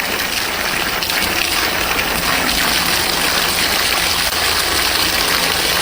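A loud, continuous rush of water pours in a steady stream onto an egg hung on a string, unbroken for the whole stretch.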